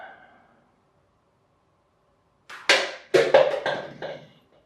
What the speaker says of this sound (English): I've stuck half a pop bottle on top, just so we get a bit more noise when it falls over.